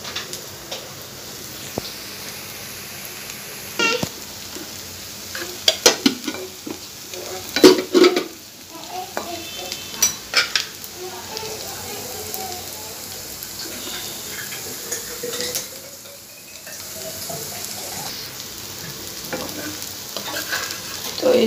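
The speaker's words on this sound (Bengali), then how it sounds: "হাত পুরাই পেঁয়াজি বেগুনি ভাজলাম, দেখছেন।" Onion fritters and aubergine fritters fry in hot oil, a soft continuous sizzle with scattered stirring clinks and scrapes close by, no talk.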